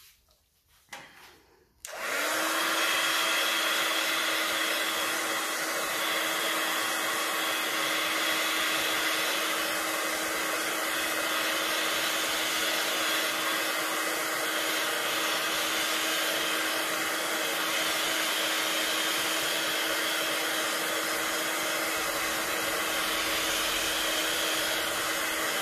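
A heat tool switches on after a brief quiet moment to dry a journal page. It then blows a loud, steady, breathy whoosh with a constant motor hum and holds that tone without a break to the end.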